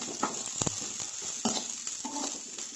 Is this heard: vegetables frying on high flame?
yes